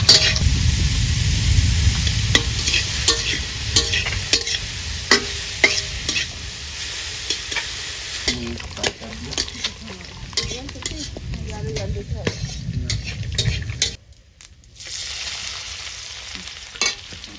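Chopped onion and onion paste frying in oil in a handi for mutton, loud close sizzling with repeated scraping stirs and clinks of the utensil, briefly dropping out near the end, with faint background voices.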